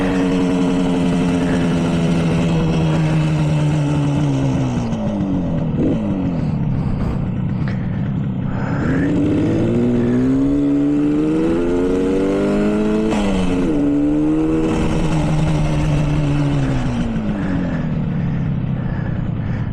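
A 1967 Yamaha YR1 motorcycle engine runs continuously while riding, its revs climbing and falling through gear changes, with steady, loud harmonic engine tones that sweep up and down across the ride.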